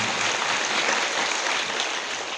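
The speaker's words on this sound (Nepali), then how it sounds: "ताली बजाइदिनु होला।" Students at a school morning prayer assembly clap their hands together, a dense, continuous burst of applause that stays loud and even throughout the short moment.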